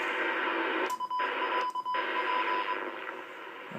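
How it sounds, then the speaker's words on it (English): A distant Canadian or American radio station comes in over a Hustler 4 vertical antenna mounted without radials: a steady, dense, hissy broadcast signal with a thin steady tone, briefly dropping out twice and then fading slightly toward the end. "Sounds like obviously a Canadian or American station coming in now."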